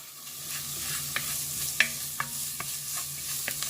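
Ground spices frying in a hot pan for a lentil curry, stirred steadily: a continuous close sizzle broken by light, irregular scrapes and taps of the spoon against the pan, with no voices.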